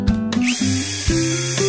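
An Emtop battery-operated cordless drill whirs in several short bursts, its motor pitch stepping up and down between triggers, loud and close, with no one talking.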